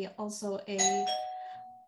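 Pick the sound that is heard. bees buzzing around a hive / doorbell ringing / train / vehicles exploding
doorbell ringing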